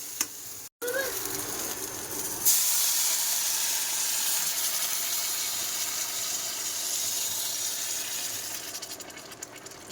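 Water poured into a hot cooking pan with okra curry hisses and steams loudly and steadily, a sharp burst of sizzle rising partway through and then settling into a continuous close hiss.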